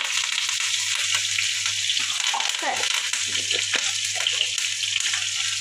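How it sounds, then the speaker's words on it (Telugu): Onion fries in a pan for a Telugu home-style dal and curry, a steady broad sizzle with faint scraping and stirring clicks now and then, close and continuous. "అంతలోపల ఉల్లిగడ్డ కూడా బాగా దూరగా వేగిపోయింది"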